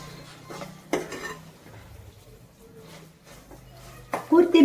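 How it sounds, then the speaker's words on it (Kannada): Carrot burfi mixture with ghee is stirred in a pan, giving soft scraping and occasional clinks of a spoon against metal, close and quiet with pauses between strokes. "ಮತ್ತೆ ಕಲಕುತ್ತಾ ಇರಿ."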